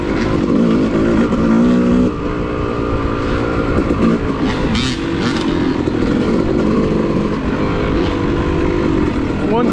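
A dirt bike rides an off-road woods trail at the Enoree OHV area, its engine droning loud and close without a break, with slight rises and dips in revs.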